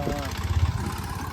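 A farm tractor engine runs with a steady low rumble, its mid-range chug continuing beneath nearby talking voices.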